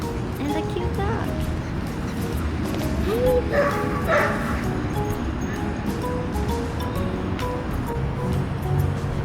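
A dog gives short yips and barks under steady broadband noise, with the calls fairly brief and partly masked by the background.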